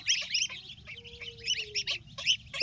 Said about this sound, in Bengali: এই রাজহাঁসের বাচ্চাগুলো দেখেন, হেবি সুন্দর বাচ্চা একটা।